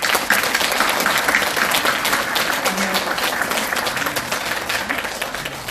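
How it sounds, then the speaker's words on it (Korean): A church congregation applauds its founding members at a thanksgiving service marking the church's founding, a steady, dense wash of clapping that fills the whole stretch with a faint voice murmuring beneath. "한번 박수 쳐주세요."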